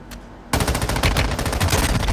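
Rapid automatic gunfire from a soldier firing while prone in the Warzone Mobile shooter game, loud and close, a continuous rattling burst starting abruptly after a brief quiet moment and running to the end.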